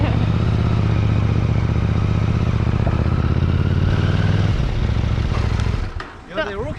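A KTM Duke 890 R motorcycle engine runs at a steady, loud rumble for several seconds, then cuts away to quieter ambience with a short whistling sound at the end.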